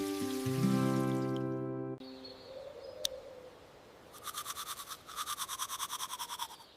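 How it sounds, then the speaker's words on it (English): A toothbrush scrubbing teeth in short rhythmic strokes, close and fairly soft, following a brief musical chime and a quiet gap. "I brush my teeth."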